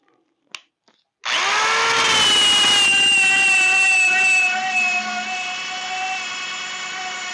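A power drill spins a Wonder Wheel eraser against sticker adhesive on a 1978 Jeep Wagoneer, starting with a few quiet taps before a loud, steady high-pitched whine and grinding that settles slightly lower toward the end.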